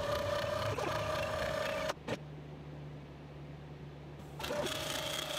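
A DIY CNC machine's 500W spindle runs steadily with a loud, constant whine, cuts out briefly for about two seconds, then starts again near the end, with no talking.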